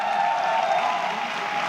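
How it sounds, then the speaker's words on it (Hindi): Audience applause at a live talk event in honour of the speaker's wife: a steady, dense wash of clapping that holds at an even level for under two seconds, with no voices over it. "आई वांट कि एक बार जोरदार तालियां हो जाए उनके लिए।"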